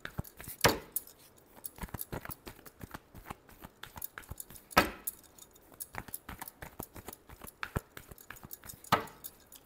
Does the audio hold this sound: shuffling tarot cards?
yes